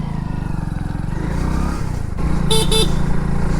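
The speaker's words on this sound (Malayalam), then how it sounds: "ഇനിയിപ്പം നമുക്ക് വണ്ടി ഒന്ന് ഓട്ടിച്ച് നോക്കാം" Engine of a 2024 Hero Splendor Xtec motorcycle while riding, a steady low drone held close throughout, with a brief two-note horn toot near the end.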